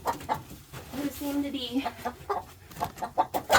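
Chickens on a homestead cluck in short, close bursts throughout, with a person talking over them.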